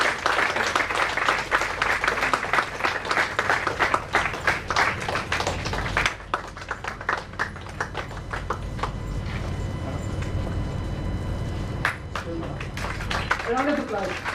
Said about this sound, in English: Ladies, a big round of applause.